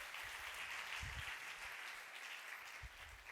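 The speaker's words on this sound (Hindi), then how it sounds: "ताली बजाइए वीरेंद्र के लिए" A church congregation breaks into steady clapping for a member during a service, the applause continuous and fairly close, filling the room without anyone speaking.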